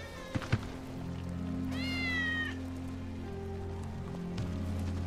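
A cat meows once in the game Final Fantasy VII Remake, a clear rising-and-falling cry over steady rain and low ambient hum, with two sharp thumps just before.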